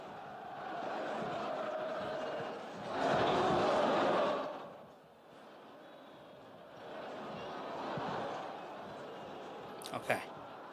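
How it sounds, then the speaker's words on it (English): A crowd's noise is distant and muffled, rising in soft swells of murmuring and cheering that fade in and out, with a sharp brief knock near the end. "Do you guys hear that crowd noise?"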